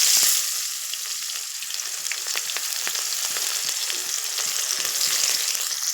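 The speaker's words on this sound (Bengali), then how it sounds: "আমি সুন্দর পেঁয়াজ কাঁচা লঙ্কা দিয়ে দিয়েছি, এবারে এটা লাল লাল করে একটু ভেজে নেবো" Onion and green chili frying in oil in a pan, a loud continuous sizzle close up with faint clicks of stirring, no talking.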